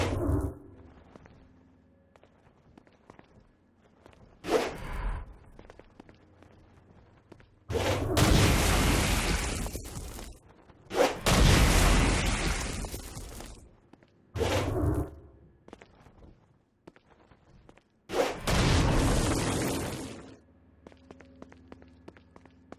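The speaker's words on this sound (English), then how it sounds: "Stone Blast is especially useful on flying demons like this one." Stone Blast explosions go off in the PC game Saints Row: Gat Outta Hell, several loud, forceful bursts spaced a few seconds apart with booming rushes and quieter game ambience between them.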